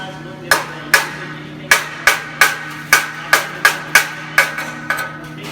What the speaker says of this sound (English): we gotta clean this slag off